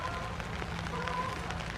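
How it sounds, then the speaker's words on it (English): Rain falling steadily on an overnight hammock camp, a constant patter and hiss of drops on surfaces, moderately quiet and even throughout. "it is getting rainy out"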